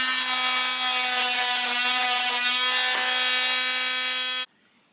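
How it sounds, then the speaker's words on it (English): A power sander grinds down a homemade epoxy incense holder with a steady, loud electric buzz and whine. It runs continuously for about four and a half seconds, then cuts off abruptly into near silence. "Now we are going to take our sander and we're going to sand this back down"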